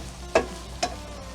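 Four eggs cooking in a pan give a faint sizzle, broken by two soft scraping stirs in quick succession.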